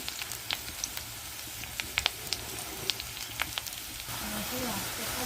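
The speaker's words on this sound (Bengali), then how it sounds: "আর এই যে দেখো, ইঁচড়টা এভাবে করে আমি ভেজে নেব।" Raw jackfruit sizzling in a pan, a steady faint fry with scattered sharp crackles and pops, fairly quiet and close.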